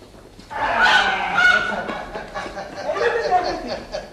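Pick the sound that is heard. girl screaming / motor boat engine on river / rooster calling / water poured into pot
rooster calling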